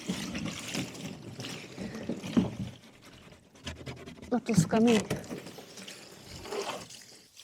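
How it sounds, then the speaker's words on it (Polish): Water trickles and pours into small garden pools on a rural farmyard, a soft gurgling stream that rises midway, with people talking nearby throughout. "Woda do baseników się nalewa."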